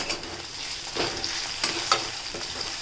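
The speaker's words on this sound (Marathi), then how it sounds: "मिरचीसुद्धा आपल्याला कांद्यामध्ये आता शिजवून घ्यायची आहे" Finely chopped green chilies and onions fry in a pan with a soft steady sizzle, broken by a few scraping stirs and light clinks, close and fairly quiet with no talking.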